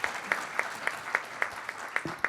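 An audience at a pitch competition applauds, with loud, rhythmic clapping near the room's front, about eight or nine sharp, evenly spaced claps standing out over the general patter.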